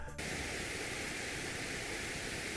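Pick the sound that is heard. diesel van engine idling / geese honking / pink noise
pink noise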